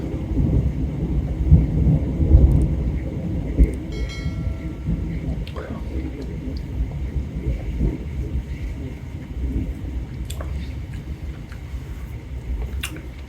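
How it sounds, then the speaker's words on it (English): Thunder during a storm, a deep, sustained rumble that swells and rolls for several seconds, mid-distance, with faint crackles over a steady low roar. "oh, there's the thunder"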